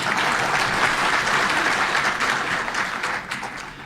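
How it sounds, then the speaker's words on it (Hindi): An audience breaks into sustained, dense applause at a Hindi talk about India, many hands clapping together at a steady level before easing off slightly near the end, with no speech over it. "तो ताली तो बजाने दीजिए।"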